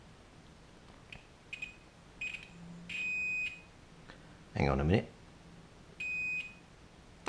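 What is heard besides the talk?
multimeter continuity tester beeping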